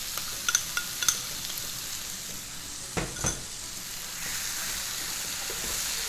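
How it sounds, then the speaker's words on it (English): Pork sizzles steadily in a hot pan with gochujang sauce as it is stir-fried over low heat. A few clinks and scrapes of a utensil on the pan sound over the continuous frying, with no talking. "Now, I'm going to reduce the heat to a low heat and then add my gochujang sauce to it."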